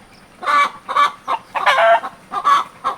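Rhode Island Red and Buff Orpington cross hens clucking close by, a quick series of about six loud, separate clucks over three seconds with no other sound.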